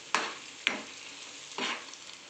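Coriander powder and spices being stirred in a hot pan for misal, three distinct scraping stir strokes with a soft sizzle between them, close and fairly quiet, no talking.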